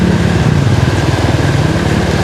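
Honda PCX scooter engine running through flood water in a Pampanga street, a steady close buzzing drone with a low pulsing rumble, continuous and fairly loud with no talk.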